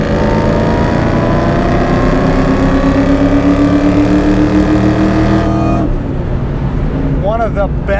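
A 2003 Ford Cobra (Terminator) V8 with aftermarket Borla S-type mufflers drones loudly and steadily under acceleration, its exhaust pitch climbing before it abruptly drops off near the end, while someone talks over it.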